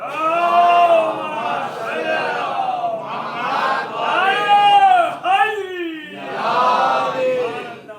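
A large gathering at a Shia majlis chants the Naara-e-Haideri slogan, with voices rising in loud unison across several successive shouted rounds, each call swelling and then falling off.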